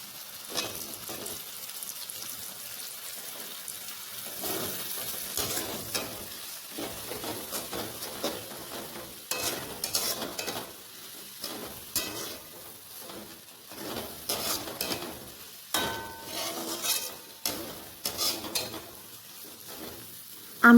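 Potatoes frying in hot oil in a pan give off a steady, fairly quiet sizzle, with irregular crackling pops and occasional stirring scrapes throughout.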